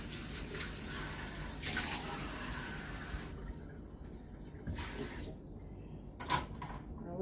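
Fresh water running from a tap, a steady close splashing stream with a few knocks and shifts in flow, no talking.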